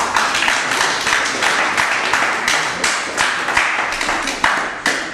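Loud, dense applause from the crowd at a women's boxing match after a knockout, with many hands clapping together in a steady, continuous wash and no voices on top.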